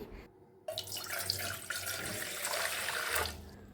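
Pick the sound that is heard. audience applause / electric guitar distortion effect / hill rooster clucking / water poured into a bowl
water poured into a bowl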